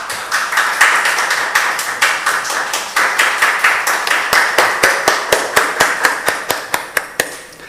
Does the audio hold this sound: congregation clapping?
yes